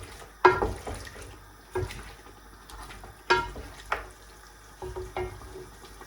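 Mutton simmers in a pot as its water cooks off, giving occasional sharp sizzles and clanks of stirring over a quiet bubbling background.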